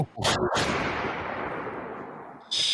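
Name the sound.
voice imitating a gunshot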